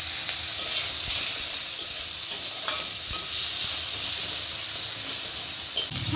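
Chopped tomato sizzling in a hot pan of fried onion and chili for a mustard pabda fish curry, a continuous loud hiss with light stirring scrapes and faint clicks throughout.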